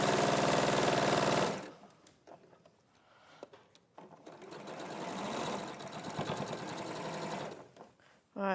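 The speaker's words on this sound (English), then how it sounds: "I'm just sewing these rows together" A sewing machine stitches rows of fabric together in loud, steady whirring runs that stop abruptly and start up again, with a short pause full of small clicks and handling noises in between. A voice talks briefly during the pause.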